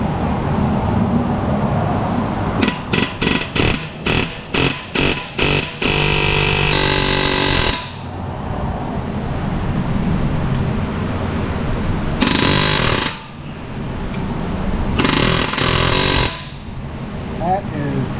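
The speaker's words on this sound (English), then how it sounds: "it's going to be air hammer time" An air hammer pounds a stuck wheel stud on a car wheel: a loud, rapid series of sharp hits, then a longer sustained hammering stretch, followed by two further short bursts with quieter shop noise between.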